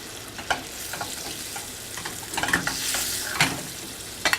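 Salmon frying in browned butter in a pan, a soft, crackling sizzle with scattered pops and a few louder spatters and utensil scrapes, fairly quiet and close, with no talking.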